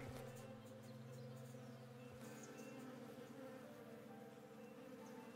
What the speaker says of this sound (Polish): O, pszczoły.